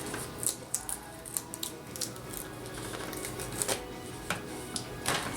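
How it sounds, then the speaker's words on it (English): A Cricut cutting machine cuts a dinosaur shape from a mat, giving a steady mechanical whir punctuated by quick, irregular clicking ticks as the blade carriage moves, close and moderate in level. "I'm actually going to cut out my dinosaur now"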